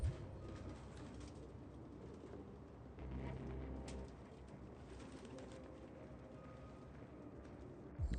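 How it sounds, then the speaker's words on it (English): Pigeons coo in Detroit: Become Human, a steady low murmur of cooing filling the background for the whole stretch, with slight swells but no clear single call standing out. "No human could live with all these fucking pigeons."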